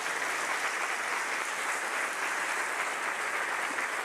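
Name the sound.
applause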